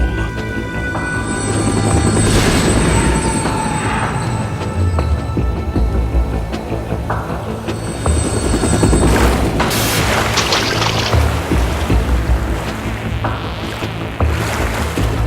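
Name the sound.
helicopter in Metal Gear Solid 2 video game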